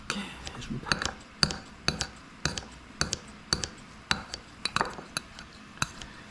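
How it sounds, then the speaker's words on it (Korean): Kitchen scissors snip through abalone innards in a steady series of sharp, close clicks and crunches, roughly two per second, with faint handling sounds between cuts. "가위로 이렇게 편하게 해주시면 됩니다"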